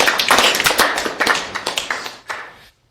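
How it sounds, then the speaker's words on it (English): A classroom of students claps in a brief round of applause, dense hand claps fading out within a few seconds to near silence. "give a round of applause"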